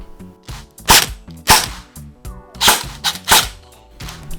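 An electric airsoft gun fires in semi-automatic mode, five or six sharp single shots at uneven intervals, close and loud with short ringing tails.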